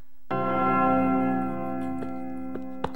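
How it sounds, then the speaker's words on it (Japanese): One deep, resonant strike of a clock tower bell in a Kindaichi mystery game, the tone humming on and slowly fading, with a few faint clicks underneath and no talking. "なんだこの鐘の音は。"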